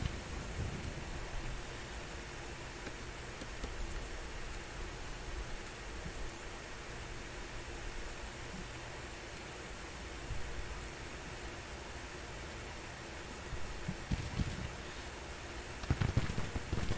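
Steady rain in the Civil War strategy game Grand Tactician: The Civil War, a dense, even hiss of rainfall running throughout with no voices and a few brief louder patters near the end.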